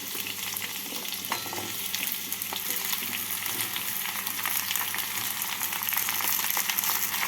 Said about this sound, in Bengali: সবজিগুলোকে তেলের মধ্যে নাড়াচাড়া করে নেব